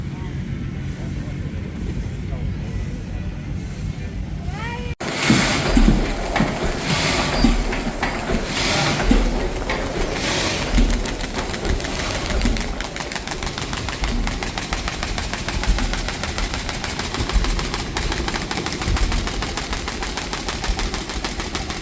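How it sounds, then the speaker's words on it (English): A big steam engine runs at a thrashing show, starting about five seconds in with loud, rapid rhythmic chuffing and mechanical clatter that continues steadily. Faint voices and crowd noise sit underneath. "That's the big steam engine."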